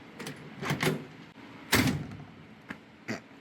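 A few rattling clunks as a 1955 Chevrolet Tri-Five car door is handled, then a solid, close thud of it shutting, followed by small faint clicks.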